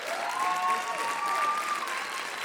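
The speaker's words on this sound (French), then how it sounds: "On peut l'applaudir quand même" Concert audience applause, a sustained crowd of hands clapping in an even wash at moderate volume, with a faint whistle rising and falling above it.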